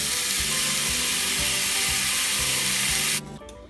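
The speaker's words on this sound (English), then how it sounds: "now that our tomatoes and our onions and our garlic is finished roasting" Tomatoes, onions and garlic roast in a pan, producing a steady, loud broadband sizzle with rhythmic scraping or stirring knocks underneath, ending abruptly near the close.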